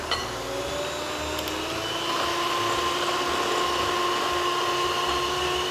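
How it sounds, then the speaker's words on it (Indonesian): An electric mixer whirs steadily, whisking egg whites with sugar for meringue for a Japanese castella cake, a continuous motor drone that holds at an even level throughout with no talking. "Pertama kita kocok dulu putih telurnya sampai mengembang seperti ini."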